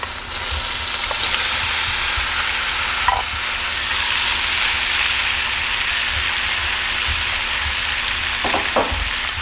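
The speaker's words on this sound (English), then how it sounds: "You can go ahead and put in your shrimp" Shrimp sizzle steadily in a hot pan for shrimp scampi, a continuous bright frying hiss with a few soft clicks, close and fairly loud, no voices.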